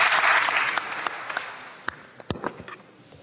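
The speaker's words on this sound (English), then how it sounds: "Please give them a round of applause." Applause for three visiting teen leaders in the Mississippi House chamber, loud at first and fading quickly to scattered claps and a few sharp slaps.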